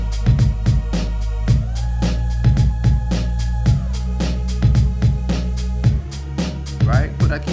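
A GarageBand beat plays, with steady punchy kick and snare hits over a deep, sustained bass line, loud and evenly paced, with a brief synth tone sliding in the middle.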